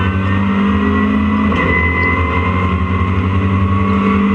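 A BMW racing car at Donington roars loudly past, its engine holding a strong steady drone with a shift in pitch partway through, close and dominant with no voices.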